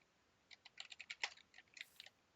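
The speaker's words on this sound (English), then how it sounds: "I'm bad at typing." Keys clatter on a computer keyboard in a quick, uneven burst of close, light clicks, with a short pause before a final cluster of taps; no one speaks.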